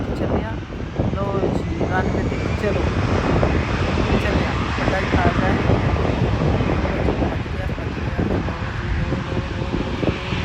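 An airplane rolls along the runway at the Toronto Air Show at night, its engine a loud, steady roar mixed with wind buffeting the microphone, with voices faintly underneath.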